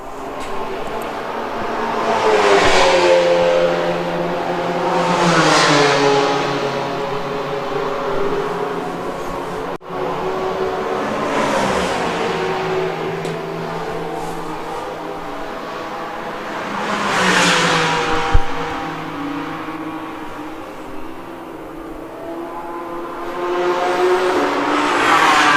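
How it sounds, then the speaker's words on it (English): Onboard a Porsche race car during the Mugello 12 Hours endurance race: a loud, continuous engine roars close up, its pitch climbing and dropping repeatedly through gear changes, with no voices. "As you ride on board with the Abbey Motors Porsche in 15th place."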